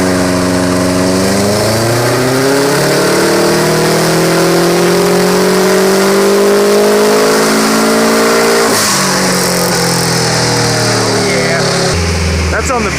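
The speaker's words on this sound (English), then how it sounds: "This is gonna be the first time I get to hear what my car sounds like from behind." A tuned 2006 Subaru WRX STI revving loudly behind the car, its pitch climbing steadily then dropping back, with a sustained droning exhaust note that dominates throughout.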